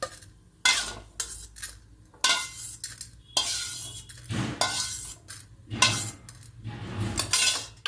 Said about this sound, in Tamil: இதை ஒரு தட்டில் நம்ம எடுத்து மாற்றி வச்சுக்கலாம்.